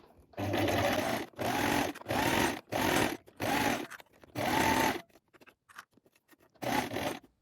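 A sewing machine stitches a seam 1 cm from the fabric edge while a dress is assembled. It runs in six close bursts of about half a second to a second each, separated by brief pauses, then one final burst.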